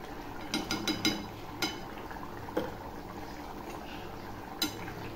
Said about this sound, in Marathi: आता थोडंसं मी तूप टाकते